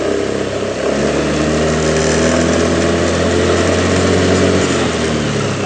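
A 2021 Honda Beat CBS ISS motor scooter engine is revved up close, a buzzing high-pitched drone that rises and holds steadily for several seconds.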